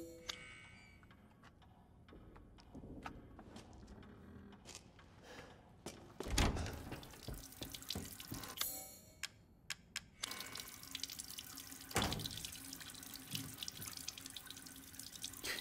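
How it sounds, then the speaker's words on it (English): Water runs steadily from a tap in Resident Evil Village, a continuous hiss with a few louder splashes and faint ticking behind it, heard alone with no talk. "Turn off the water."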